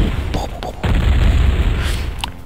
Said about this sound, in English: I just love the multiple explosions that it has there.